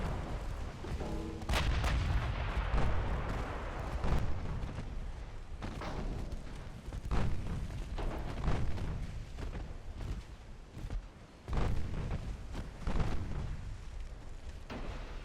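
Naval guns firing in the Ultimate Admiral Dreadnoughts video game, main and secondary batteries booming in repeated heavy salvos at range, with rumbling blasts and explosions spread across the stretch.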